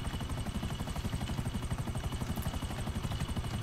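A Buzzard helicopter flying in GTA 5 Online, its rotor chopping in a fast, steady rhythmic thump under a constant engine whine, loud and continuous with no talking.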